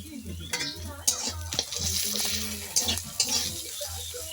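Onion fried with ginger garlic paste sizzles quietly in a pan while a utensil scrapes and clinks against the metal in several sharp strokes, with low speech-like sounds faintly mixed in.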